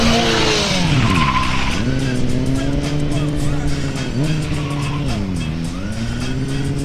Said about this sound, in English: ripping the tires off this thing